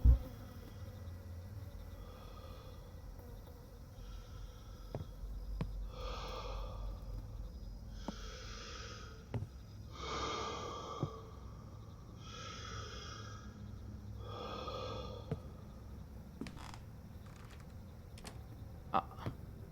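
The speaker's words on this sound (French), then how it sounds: "Oh, j'entends respirer." Heavy, rhythmic breathing in the horror video game Summer of 58, slow drawn breaths in repeated swells, moderately loud, with occasional clicks and a low ambient hum beneath.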